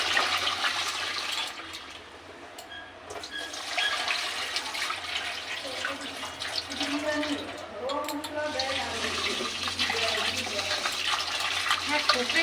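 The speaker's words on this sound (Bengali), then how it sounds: "এবার চালটাকে ভালো করে ধুয়ে নেব।" Rice being washed for basanti pulao, with water running and sloshing close by in a continuous wash. It briefly dips, then swells again with splashing.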